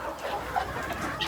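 Soft, low clucking from roosters and hens pecking at greens, heard close and faint with no talking.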